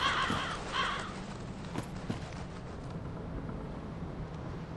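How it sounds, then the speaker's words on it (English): Crows caw in the Undead Settlement area of Dark Souls 3, several harsh calls near the start and a few scattered later ones over a low, steady ambient rumble. "And so crows everywhere."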